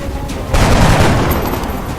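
A burst of gunfire in the X-Com video game erupts after a moment of low background noise, a loud, booming volley that rumbles on and slowly fades.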